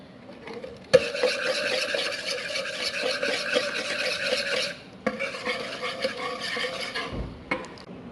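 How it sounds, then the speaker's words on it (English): Cookie dough is mixed thoroughly with a spoon in a bowl, a continuous close scraping and rubbing that pauses briefly midway before resuming, with no voices. "make sure to mix this thoroughly"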